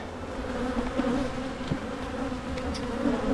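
Honey bees drone steadily inside a hive box, a dense close buzzing hum that holds without pause, alone with no talk.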